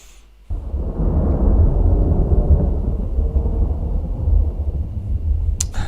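Thunder from a thunderstorm breaks in suddenly and rolls on as a loud, deep, continuous rumble for several seconds, with no voices over it.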